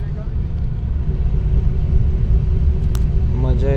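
Bus travelling at full speed on a highway toward Lonavala, a loud close engine and road rumble droning steadily from inside the cabin, with a voice talking over it.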